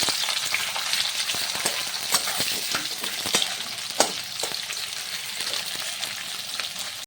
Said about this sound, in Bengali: কড়াইতে আমি সাদা তেল দিয়েও দিয়েছি তেলটা গরম হয়ে গেছে আর আমি পেঁয়াজগুলো ফ্রাই করে দেবো